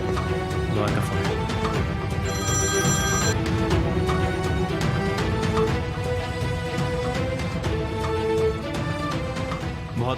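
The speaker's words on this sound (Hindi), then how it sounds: "गौर का फोन है" A telephone rings repeatedly in a dramatic indoor scene, its bright bell tones sounding over a steady music bed, with no talk during the rings.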